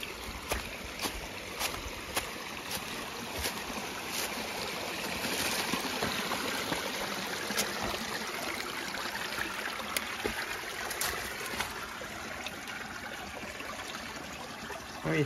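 Water running and trickling inside a wild cave in southwest Missouri, a steady broadband wash with faint splashes and drips, fairly close and continuous throughout, with no talking.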